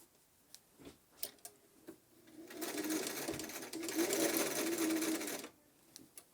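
Sewing machine stitches a fabric face mask in one steady run of several seconds, a fast even whirring hum framed by scattered clicks and handling taps before and after.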